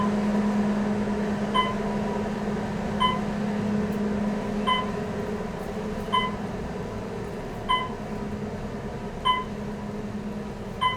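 An Otis Series 4 Gen2 traction elevator at a Residence Inn by Marriott downtown runs with a loud, steady mechanical hum, while short electronic beeps repeat at a regular pace about every second and a half. No one speaks.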